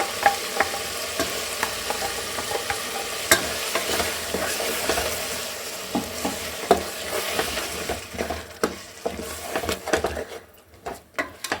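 A ground spice paste for a split field bean biryani fries in a pan, a soft sizzle under repeated scraping and clacking strokes of a spoon, close and fairly quiet, growing sparser toward the end.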